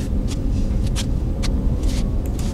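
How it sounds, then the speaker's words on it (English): A scuffling disturbance in the horror game The White Chamber: short, soft, scratchy bursts recurring irregularly over a steady, heavy low rumble, with no voices. "What's that scuffling noise?"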